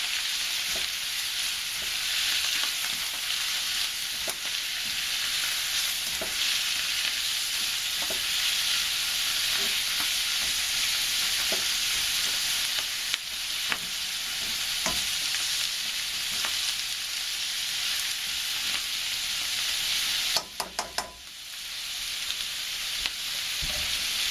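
Garlic frying with bacon and cabbage in an oiled pan for Taiwanese cabbage with bacon, a steady, even sizzle throughout with faint stirring ticks and a brief clatter near the end.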